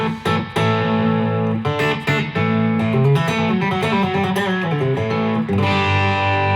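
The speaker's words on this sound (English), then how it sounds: "We've got a little overdrive pedal here." Electric guitar, a Sire H Series, played through an overdrive pedal, with chunky distorted chords and notes ringing out continuously, loud and close.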